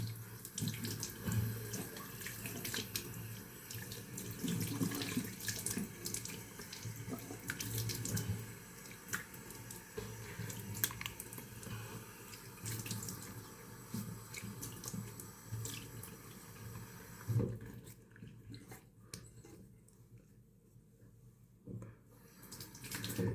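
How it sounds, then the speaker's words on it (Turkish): Tap water runs steadily into a sink while a face is rinsed during a traditional straight-razor shave, a continuous close splashing stream that drops away near the end. "Arada bir yüzümüzü yıkayalım."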